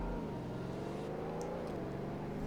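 A slow car launches in a 0 to 60 test in the Roblox game Greenville, its faint engine whirring and rising steadily in pitch as it gains speed.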